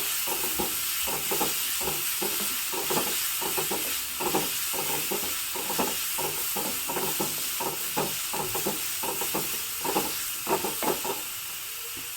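Spices sizzle and crackle steadily in hot tempering oil, a loud continuous frying hiss with rhythmic stirring scrapes running throughout, no voices.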